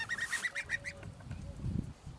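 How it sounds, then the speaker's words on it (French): Grown geese honk in a short run of calls at moderate distance outdoors, a few quick nasal notes close together, then fading into soft background noise. "Voilà les oies, donc elles ont bien grandi,"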